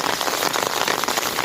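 Steady heavy rain pours down during a storm in Laos, a dense, continuous hiss of drops striking surfaces with no pauses and no voices.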